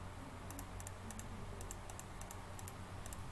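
Rapid mouse clicks on answers in an online quiz for Techno Vision 2020, a steady run of light, sharp clicks in small clusters over a low background hum.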